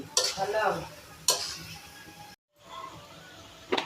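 Pieces of elephant apple (chalta) are stirred into sugar syrup in a pot, with a few sharp scraping strokes and soft bubbling between them, heard up close with a brief gap of silence.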